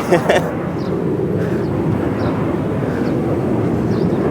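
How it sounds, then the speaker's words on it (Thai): A loud airplane passing overhead outside a city museum in Udon Thani, Thailand, a steady broad roar that fills the whole clip with brief talk at the start. "เสียงเครื่องบินมากพอดี"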